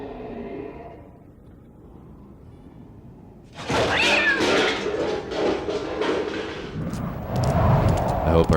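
A cat meows loudly and drawn-out, wailing over a busy backdrop of music and crowd noise after a quieter, muffled opening.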